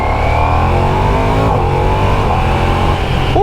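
A Ducati Diavel V4 motorcycle engine with stock exhaust drones close by, its pitch climbing as it revs, loud and continuous throughout.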